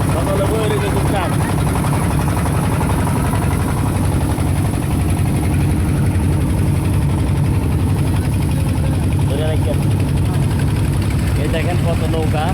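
Many small boats travelling on a river carry a steady, droning engine hum that runs throughout. People chatter nearby over the continuous motor noise.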